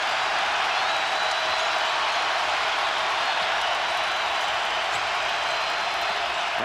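A large arena crowd at a college basketball national championship game roars in a dense, sustained wash of cheering and applause, loud and unbroken throughout, without distinct voices.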